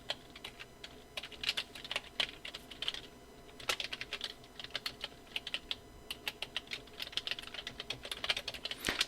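Rapid, uneven clicking of a computer keyboard as a web address is typed, close and fairly quiet. The keystrokes come in short runs with brief pauses between them, and no one speaks.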